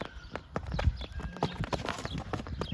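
Draft horses' hooves clop steadily and unevenly on hard ground, several animals walking close by to pasture with a busy, overlapping rhythm.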